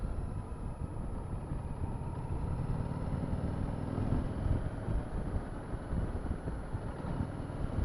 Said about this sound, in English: It's got quite a nice little engine note to it